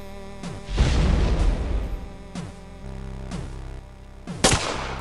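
Grenade blasts in the video game MazeQuest 3, several loud booming bursts with descending tonal sweeps, one big explosion early and another sharp one near the end, over a steady game soundtrack.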